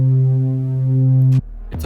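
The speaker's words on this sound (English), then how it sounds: "I've added this bass." A one-shot bass from an FL Studio beat sounds as a single deep, loud, sustained note with a steady hum-like tone, cut off sharply after about a second and a half, followed by quieter beat elements.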